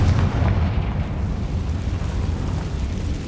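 A Confringo fire spell in Hogwarts Legacy lands with a deep rumbling blast, heavy low booming that rolls on and slowly fades over a few seconds with no talk.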